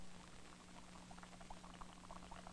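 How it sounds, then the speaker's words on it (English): Water boils in a paper cup held over a candle flame, a soft, irregular patter of tiny bubbling pops over a low steady hum, faint and close. "the water soon starts to boil"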